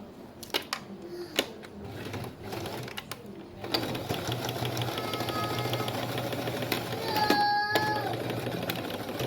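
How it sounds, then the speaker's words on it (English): A sewing machine stitches elastic into a layered ball gown, running in a steady fast mechanical chatter that starts after a few quiet handling sounds and continues for several seconds. "go ahead and sew this part so that the elastic does not remove"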